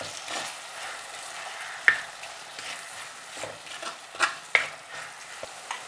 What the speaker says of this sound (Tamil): இந்த வெங்காயம் நல்லா பொரியணும்.